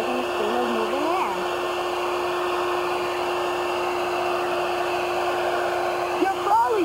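A handheld hair dryer blows a steady, loud stream of air with a constant whine as it is moved side to side, with a few brief faint vocal sounds at the start and end.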